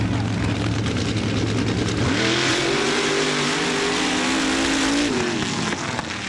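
Mud racing trucks Cyclone and Doggone at an MRA mud race in Laporte, Indiana, engines roaring loud and continuous with a rising rev midway, heavy broadband noise throughout.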